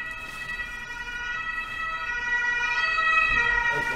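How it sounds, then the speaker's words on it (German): An ambulance siren wails steadily and grows louder as it approaches, with road traffic rumbling underneath. "Das ist ein Krankenwagen."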